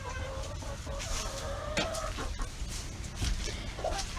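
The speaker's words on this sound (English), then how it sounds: "There's my Americana rooster" A purebred Americana rooster in a farmyard coop gives clucks and short calls, close and clear, with other fowl faintly around.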